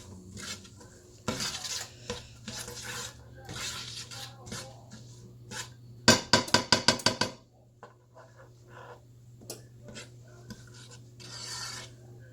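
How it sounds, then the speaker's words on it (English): A utensil scrapes and rasps against a pot as vegetables sauté in butter, with soft stirring strokes throughout and a burst of quick, louder scrapes in the middle. "Give it a good stir to make sure everything gets a good coat of butter so they saute nicely."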